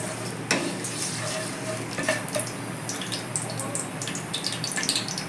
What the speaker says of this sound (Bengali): চারটে ছোট এলাচ কয়েকটা লবঙ্গ আর চারটে দারচিনির টুকরো ফোড়ন দিয়ে দিলাম